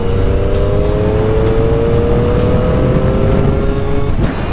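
A Triumph Trident 660 motorcycle accelerating out of town onto an open road, its engine note rising steadily and loud from the rider's position, with heavy wind rumble and no talk.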